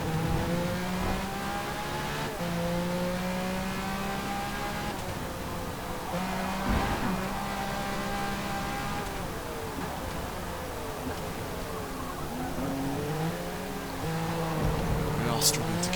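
Porsche race car engines in Forza Motorsport howl steadily throughout, pitch rising through the gears and dipping on shifts, with a whining layered tone from several cars at once.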